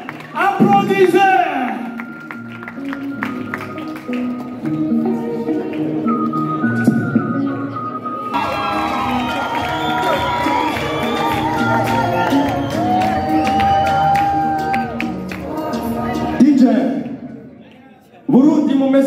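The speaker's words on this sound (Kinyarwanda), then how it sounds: "Amashyi cyane, applaudisse." Comedy show audience clapping, whistling and cheering, a sustained crowd roar with bright whistles and whoops, while amplified speech and music run over it.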